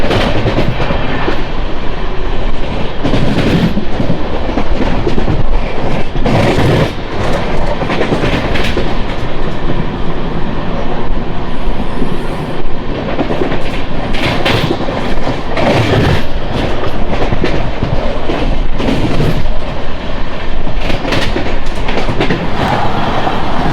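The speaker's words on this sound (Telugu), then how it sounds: "బిలాస్పూర్ నుంచి తిరుపతి వరకు వెళ్ళే ఎక్స్ప్రెస్." Express train 17481 from Bilaspur to Tirupati rushes past close by, loud sustained rumble with rhythmic clickety-clack of wheels over rail joints for the whole stretch.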